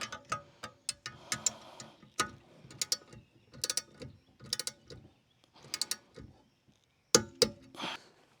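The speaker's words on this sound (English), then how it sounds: "Now it's time for the torque wrench to tighten up that joint." A torque wrench tightening a joint while retractable wheels are fitted to an Old Town Bigwater kayak, giving a series of close, sharp ratcheting clicks in short bursts with pauses between.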